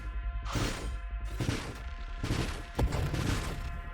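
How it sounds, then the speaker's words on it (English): Booming blasts from a space shooter, Nova Drift, hit in quick succession with a pair of overlapping bursts near the end, loud and punchy with no talk. "so that caused basically a double explosion"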